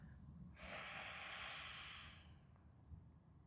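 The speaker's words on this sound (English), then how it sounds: "And exhale." A single breathy exhale during a breathing exercise, a soft airy rush lasting about two seconds, heard close and alone.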